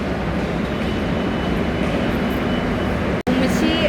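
Continuous rumbling roar of a metro train in motion, loud and steady, with voices faintly audible, broken by a sudden brief cut near the end.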